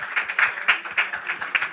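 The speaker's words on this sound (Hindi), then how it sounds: "जोरदार तालियां हो जाए" Audience clapping at a launch event for a new Shemaroo Umang TV serial, a steady burst of applause from a crowd with no talk over it.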